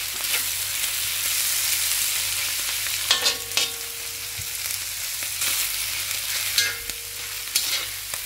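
Shredded chicken is stirred into pancit frying in a pan, a continuous sizzle broken by repeated scraping strokes of a spatula and the clink of utensils against the metal.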